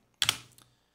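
A short burst of computer keyboard typing while entering a command for an OpenStack Ocata install on CentOS: a few close, crisp key clacks packed into about half a second, with no voices.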